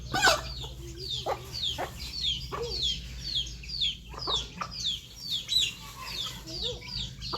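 Several chickens cluck and chatter close by in a busy, continuous stream while feeding at a rural farmhouse in the evening, with occasional sharper squawks over a low background hum.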